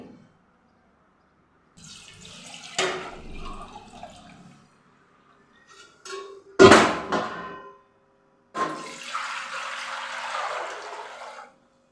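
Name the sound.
water being poured into an oiled pot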